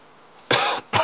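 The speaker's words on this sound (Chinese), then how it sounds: "咳嗽，全身无力，" A woman coughs twice in quick succession in a quiet indoor room, two short harsh bursts close to the ear, loud against near silence.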